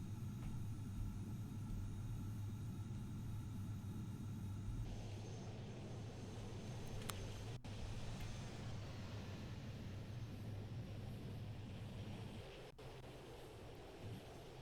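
Aircraft taking off in the video game Trainz 2009: a steady, loud low engine rumble and roar runs throughout, shifting in tone around the midpoint, with brief sharp clicks.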